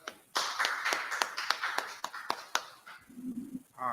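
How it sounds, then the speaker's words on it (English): An audience claps at a religious scripture gathering, a run of sharp distinct claps from a few people that thins out, with a brief voice near the end. "Clap it up."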